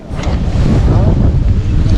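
Strong wind buffets a boat out at sea during a fishing trip, a steady loud roar of gusts with water sloshing beneath.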